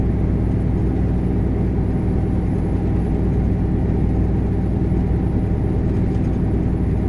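Steady, loud low engine drone and road rumble from inside the cab of a KAMAZ 54901 truck pulling a lowboy trailer at about 60 km/h, continuous with no talking.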